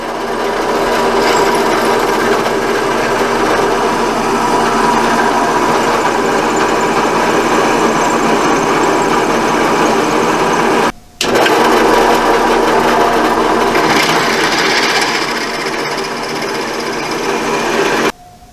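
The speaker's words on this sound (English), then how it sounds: "Then we'll clamp it in the drill press and drill it through." A drill press whirs loudly and steadily as it drills through wood, its motor hum and grinding bite continuing for a long stretch, with one brief pause before resuming.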